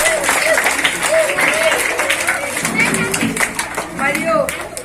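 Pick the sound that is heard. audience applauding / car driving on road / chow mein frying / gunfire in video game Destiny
audience applauding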